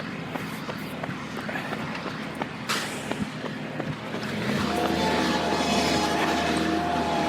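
Small Bobcat skid-steer loader working outdoors, a steady mechanical rumble with clanks and knocks that swells louder and denser in its second half, engine drone holding continuously throughout.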